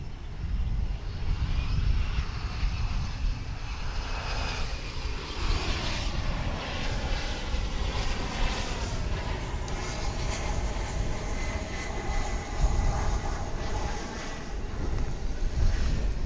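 A fixed-wing airliner takes off at DFW International Airport, its jet roar building and sweeping across in a long continuous rush at a moderate distance, with wind buffeting the microphone and no talking.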